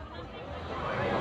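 Crowded El Salvador street market with vendors on both sides, a low, steady babble of many voices that slowly swells, heard faintly under nearby talk.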